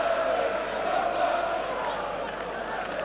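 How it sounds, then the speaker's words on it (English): A dense crowd at a Tottenham versus Liverpool football match buzzes in a steady, loud wash of murmuring voices after a near miss, filling the stadium without a clear break. "And the crowd still buzzing, that near miss by Walsh"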